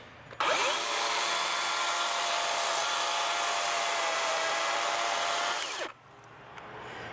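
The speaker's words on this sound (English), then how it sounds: "this is my DeWalt battery operated chainsaw" A DeWalt battery chainsaw whines at a high, steady pitch for about five seconds while cutting wood, then cuts off abruptly, leaving quiet background noise.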